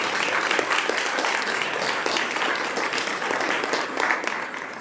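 Guests at a Women's History Award cocktail reception give a dense, continuous round of applause that stays at a steady level throughout, with no talking.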